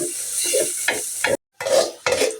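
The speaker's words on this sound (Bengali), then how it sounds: "মশলাটা আমি ভালো করে কষিয়ে নেব" Spice paste for a pangas fish bhuna frying in a pan while being stirred, with scraping strokes and sizzle in short bursts, broken once by a brief silence, close and fairly loud.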